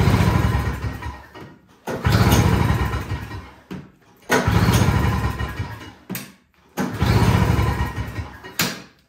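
Repeated pull-start attempts on a Toro Snow Commander snowblower with Power Propel that will not start: four loud bursts of engine sputter and cranking noise, each a second or two long, separated by short pauses, close and without talk.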